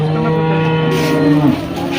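A cow at a weekly cattle market in Nashik gives one long, loud, close moo that bends upward near the end, with faint market bustle behind it.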